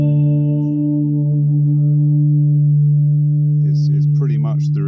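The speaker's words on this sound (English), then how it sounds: "it's pretty much the reverb I wanted, just with the added bonus of being spooky" A homemade ghost echo reverb pedal gives a guitar a sustained, droning note that rings on loudly with a haunting wash, while a voice starts to speak over the tail near the end.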